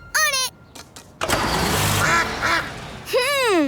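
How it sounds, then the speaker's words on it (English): Cartoon ducks quacking, a family of ducks heard as bright, squeaky quacks at the start and end, with a pump-like engine rumble in between. "So that's what's making the quacking sound. A family of ducks."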